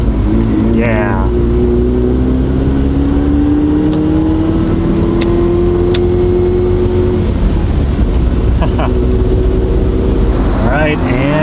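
A Mazda RX7 pulls away on a desert road trip, its engine note rising steadily and droning close, with people talking over the car noise.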